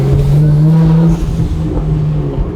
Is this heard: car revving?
yes